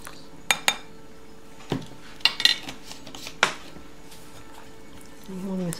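Cookie dough for Nutella-filled cookies being mixed in a bowl, with a handful of sharp utensil clinks and scrapes against the bowl separated by quiet pauses, and a voice briefly at the end.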